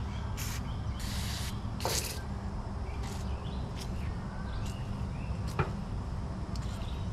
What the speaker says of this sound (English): Get a little love spray and put on those.